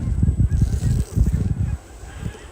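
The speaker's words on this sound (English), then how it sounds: "Oh, there's a bunch more geese" Geese honk loudly in a rapid, overlapping series as a flock flies nearby over a snowy wooded area. The calls fade toward the end.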